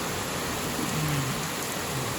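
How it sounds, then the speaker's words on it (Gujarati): Rain falls with wind in Rajkot, a dense, even hiss that fills the whole span, steady and fairly close, with no voices. "જુઓ કેવો વરસાદ છે, પવન સાથે"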